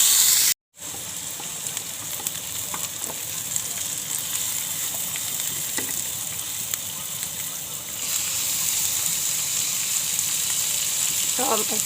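Onion softening in a hot pan sizzles steadily and continuously, with a brief cut near the start and a slightly louder, brighter hiss in the last few seconds.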